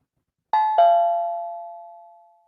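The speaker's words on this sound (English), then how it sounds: "that is the sound of a doorbell." A doorbell rings with two clear chime tones, ding then dong, the second ringing on and fading slowly in an otherwise quiet room.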